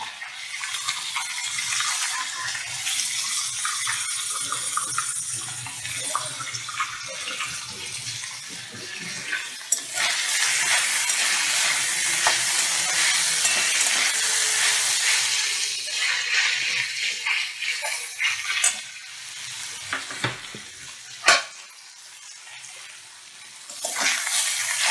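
Soaked raw chickpeas drop into a hot pan with ash gourd and fry, producing a dense, loud, steady sizzle that swells and fades across the stretch, broken by a few sharp knocks of utensils.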